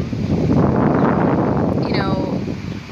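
Gusty wind buffets a microphone outdoors on a breezy day, a loud steady rumbling roar that runs throughout and eases slightly toward the end.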